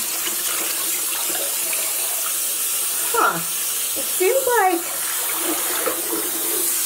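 Running tap water splashes steadily into a sink while a person speaks over it, with brief sloshing as wool yarn is moved through the water to wash it.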